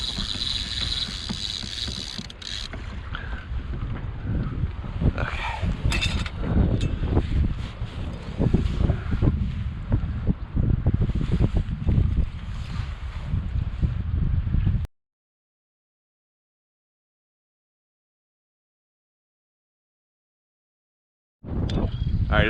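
Strong wind buffets the microphone during kayak fishing, a rough, loud roar that runs for about fifteen seconds, then drops to silence before returning at the end.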